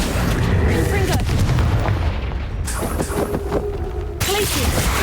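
Confringo fire-blast spell explosions in the Hogwarts Legacy video game: heavy, booming blasts repeat over a dense, rumbling bed of game sound, with brief gaps between the bursts.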